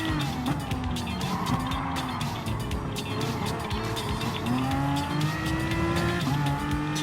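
A Nürburgring 24-hour race car in Gran Turismo Sport screams through gear changes with rising and falling engine pitch and squealing tires, loud and continuous with no talking.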